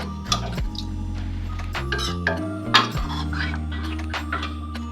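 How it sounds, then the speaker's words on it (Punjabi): Moth dal with a methi tadka being mixed in a metal pot, giving irregular scraping and clinking of a spoon against the pot, close and fairly quiet, with a few sharper knocks and no talking. "ਇਹਨੂੰ ਚੰਗੀ ਤਰ੍ਹਾਂ ਅਸੀਂ ਮਿਕਸ ਕਰ ਦਾਂਗੇ"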